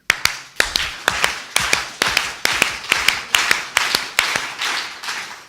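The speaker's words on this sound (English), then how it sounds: "What you actually beat it out there was the most common irregular heartbeat among the global population" A live audience claps together in an uneven, irregular heartbeat pattern: sharp, loud grouped claps in pairs with varying gaps, repeated about a dozen times.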